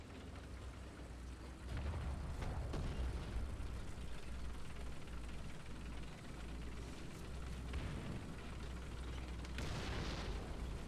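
In War Thunder, a shell impact explodes in a deep, rumbling blast with a broad crackling roar, followed by continuous heavy noise like falling debris or rain, loud and sustained.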